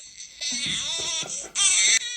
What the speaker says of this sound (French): Pourquoi j'entends des cris de bébé?